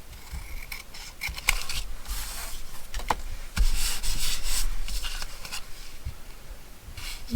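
Scissors snipping through paper ephemera for a watercolour swatch craft project, a series of close, crisp cuts and rubbing handling sounds at an even, quiet level with no talking.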